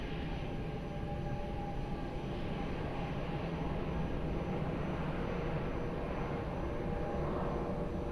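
A steady broadband jet roar from an aircraft on its takeoff roll at Lisbon Airport, runway 02, sustained and moderately distant with no talk.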